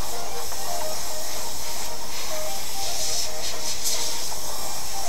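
An airbrush sprays paint onto a t-shirt while feathering angel wings, giving a steady, loud hiss throughout with brief bursts of stronger spray near the end.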